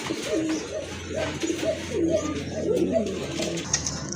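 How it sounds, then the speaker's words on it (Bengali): A pair of pigeons coo close by, with repeated soft throaty rolling calls overlapping in a steady rhythm throughout. "খুবই অ্যাক্টিভ এক জোড়া কবুতর, কোয়ালিটিফুল কবুতর"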